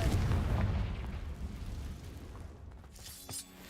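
The Confringo fire spell in Hogwarts Legacy explodes in a loud, broad burst that decays over a few seconds, followed by a faint crackling tail.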